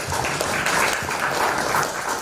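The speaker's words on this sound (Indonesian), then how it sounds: "Kita ambil aplaus dulu." A seated audience at a public talk breaks into steady, dense applause, many hands clapping together at a uniform level for the full stretch.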